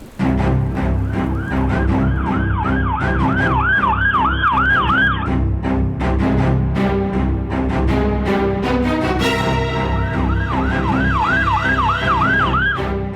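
A loud ambulance siren wails in rapid rising-and-falling cycles over heavy traffic noise, pausing briefly midway before starting up again.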